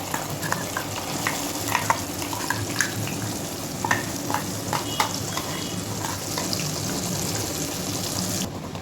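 Ground red chilli and onion chutney frying in a hot tempering, a steady sizzle broken by repeated scraping stirs against the pan, close and with no one speaking.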